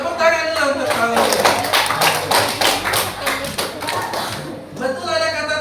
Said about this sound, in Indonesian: Tepuk tangan dulu untuk paus.